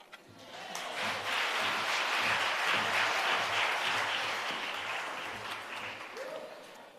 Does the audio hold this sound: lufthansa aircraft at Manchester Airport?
no